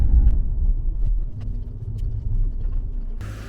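A van drives along a short road trip to the Eden Project in Cornwall, giving a steady, close low engine rumble and road noise throughout, with a brief brighter burst near the end.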